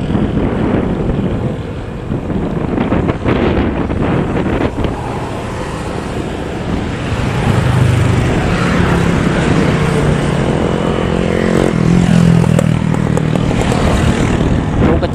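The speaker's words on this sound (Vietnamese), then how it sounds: "Xà lan ghe bầu xào chẻ nhau quá trời." Barges and boats motor past one another on a river, a steady broad engine rumble and water wash filling the scene, with wind buffeting the microphone and a louder, lower drone swelling near the end.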